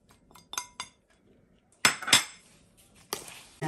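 Utensil scraping and clinking in a bowl while stirring starch, water and sugar into batter for baked cassava cake, a handful of sharp close knocks in scattered bursts with quiet gaps.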